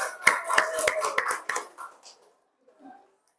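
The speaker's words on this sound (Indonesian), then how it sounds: "tepuk tangan" Classroom applause: a brief burst of hand clapping from a group of students, dense and close for about two seconds before tapering off into quiet, with a faint murmur near the end.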